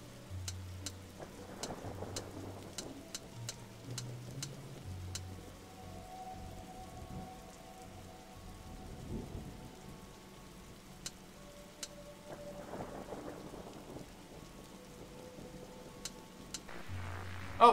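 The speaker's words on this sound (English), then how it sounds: "Look, detective, the storm's dying out." Thunderstorm ambience in The Darkside Detective game, steady faint rain patter with low rumbles of thunder and scattered sharp clicks, swelling slightly near the end.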